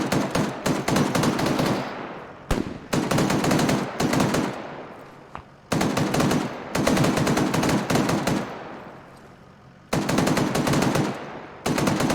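Bursts of automatic machine gun fire from convoy vehicles in the Arma 3 military shooter, loud and close, coming in long sustained strings separated by short pauses and fading echoes, with no talk over it.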